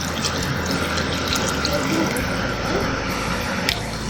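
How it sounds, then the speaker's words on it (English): Water running steadily from a tap into a pot of basmati rice for chicken biryani, a constant close gushing rush with no pause. "so I'll add 500 ml of water"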